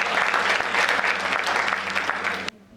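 An audience at a Hindi kavi sammelan poetry gathering breaks into close, dense applause. The clapping holds steady for over two seconds, then cuts off abruptly into near silence.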